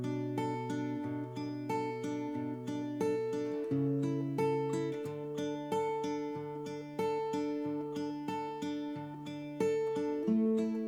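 Acoustic guitar playing a song at a slowed tempo, mixing strummed chords with picked single notes in a steady repeating pattern, close and clear with no voice.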